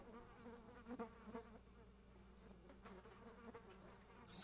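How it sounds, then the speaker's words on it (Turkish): Flies and other insects buzz faintly in Hello Neighbor gameplay, with a wavering drone and a few louder passes as they come near. "Sinekler minekler ötüyor"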